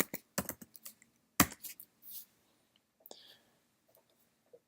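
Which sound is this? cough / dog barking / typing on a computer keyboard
typing on a computer keyboard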